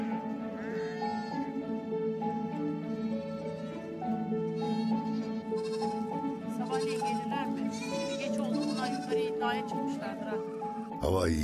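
Goats bleating on an island, several calls standing out over a steady bed of background music throughout.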